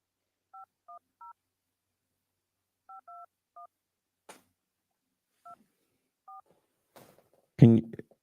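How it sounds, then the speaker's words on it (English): A series of short electronic touch-tone beeps dialing a number, spaced in small groups, followed by a brief rustle and a louder thump at the end. "I heard the touch tones."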